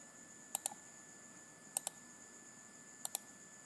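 Computer mouse clicks, three quick double clicks spaced about a second apart, crisp and close against quiet room hiss.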